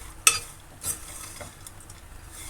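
A spoon stirs a dry fruit mixture with ghee in a pan for dry fruit laddu, giving faint, soft scraping with two brief clinks early on against quiet background hiss.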